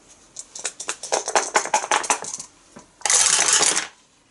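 Dice rattling during an Eldritch Horror board game, a quick clatter of several light taps, then a short loud burst of dice tumbling across a surface before stopping.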